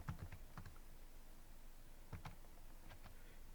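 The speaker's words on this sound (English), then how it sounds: "we're going to type" Soft keystrokes tap on a computer keyboard in small clusters, faint and close, with quiet gaps between them in a quiet room.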